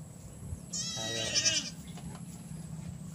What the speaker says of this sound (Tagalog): Yan ang alaga niyang kambing